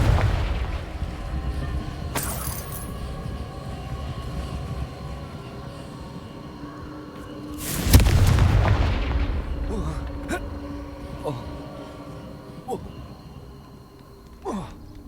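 Confringo blasting spells in a Harry Potter video game produce explosive booms, a sharp burst near two seconds and a heavy rumbling blast around eight seconds that fades out, mixed with game ambience and occasional spoken lines.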